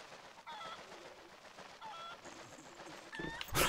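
A chicken clucks in the video game Zelda Twilight Princess HD: three short, squawking calls spaced about a second and a half apart over steady game background sound, ending in a louder burst.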